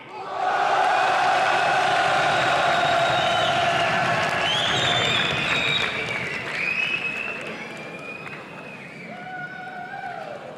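A large esports event crowd applauds and cheers loudly for a League of Legends team, a sustained roar with whistles and shouts that eases slightly toward the end.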